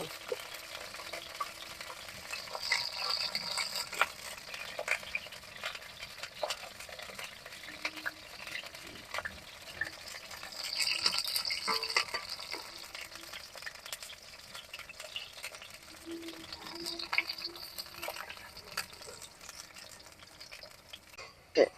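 Oil sizzles and crackles steadily as red lentil and coriander leaf fritters fry in a pan, with occasional stirring scrapes and no talking.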